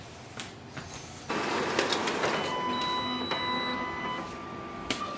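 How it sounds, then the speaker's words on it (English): Canon imageCLASS MF453dw laser printer running a test page, with a mechanical whir and feed clatter that jumps louder after a second and continues steadily with small clicks, heard alone. "You can print a test page and then click on the exit."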